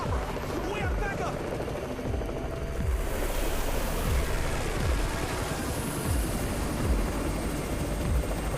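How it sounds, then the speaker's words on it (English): Helicopter arriving in the video game Undawn, a steady rotor thump over broad rushing wind-like noise, loud and continuous throughout. "It's the Raven's chopper! We have backup!"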